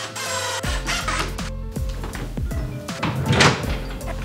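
Drawers slide and knock into a birch plywood vanity unit, with repeated close wooden thunks, scraping slides and rattles in an irregular sequence.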